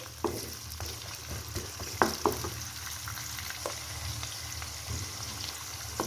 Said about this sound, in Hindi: अब हल्का सा इसे फ्राई करेंगे, सौते करेंगे।